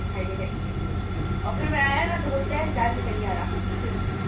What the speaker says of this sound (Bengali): এই দেখো ট্রেন তো চলছে